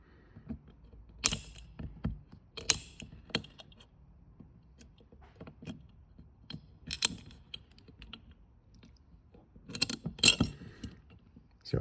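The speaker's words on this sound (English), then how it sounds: "you pull out the first snap ring using the small screwdriver" A small screwdriver pries a snap ring out of a Xicato light engine fixture, giving sparse, sharp metallic clicks and scrapes in quiet, close bursts with pauses between them.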